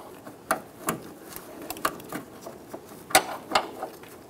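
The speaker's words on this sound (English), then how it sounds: "Using a 6 millimeter wrench, loosen the other clamp." A 6 mm wrench works a fuel hose clamp on a 2000-2007 Ford Focus fuel pump, producing scattered sharp metallic clicks and ratcheting ticks at irregular intervals, close and moderately loud with no talk.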